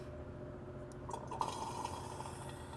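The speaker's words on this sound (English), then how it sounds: "as we're pouring ATF through the funnel" Automatic transmission fluid pours through a funnel into a transmission service machine, giving a soft, steady trickle and gurgle over a low background hum that grows slightly fuller partway through.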